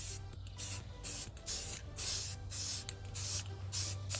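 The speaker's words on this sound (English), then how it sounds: "we're going to start the painting, the rim, and we're going to do the first coat, which will be the light coat" Short bursts of spray paint hiss across a Smart car rim as a first light coat goes on, roughly eight quick, close, regular puffs separated by brief pauses, with no voices.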